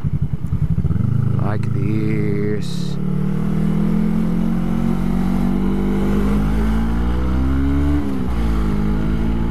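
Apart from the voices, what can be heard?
Kawasaki GW250 motorcycle riding between cars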